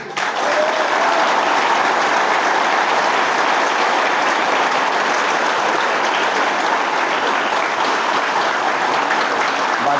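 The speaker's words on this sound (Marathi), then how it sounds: "टाळ्याचा आवाज कसा पाहिजे?" Dense, continuous applause from an audience at an Independence Day student speech event, loud and close, holding steady with no pauses and no voices standing out.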